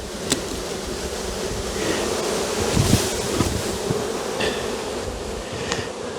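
Honey bees pouring out of a hive entrance as the colony is shaken down and supered, a steady close buzzing drone that swells slightly midway, with occasional light knocks against the box.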